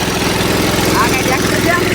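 A mini tractor engine runs steadily throughout, a continuous low mechanical drone with a regular pulsing thud, heard close up with people talking over it.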